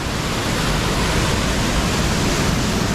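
A powerful waterfall roars steadily, a dense, loud, unbroken rush of falling water filling the scene with no other sounds.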